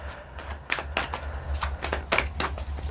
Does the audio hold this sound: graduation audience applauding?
no